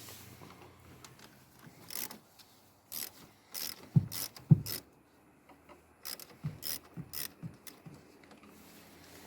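A ratchet retightens a nut while a CTEK battery sensor is fitted on a 2020 Skoda Citigo e-iV, giving several short bursts of quick clicking spread across the clip, near and moderately quiet.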